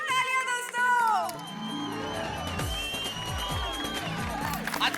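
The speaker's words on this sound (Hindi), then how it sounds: "जोरदार तालियां दोस्तों।" Loud cheering and applause from a studio audience after a comic dance performance by two characters on a TV show, with music playing through it and voices shouting over the noise.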